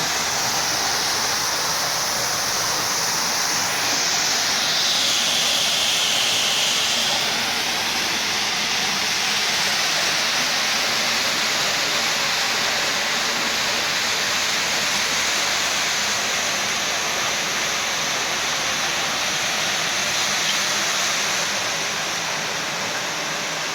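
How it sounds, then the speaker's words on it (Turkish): Automatic car wash at a carpet and car wash in Güzelyurt, Aksaray, with rotating brushes spraying and scrubbing a car, a dense, loud, continuous roaring hiss of water and spinning brushes heard up close with no voices. "5000 defa dönüyormuş bu fırçalar. 5000 defa dönüyor."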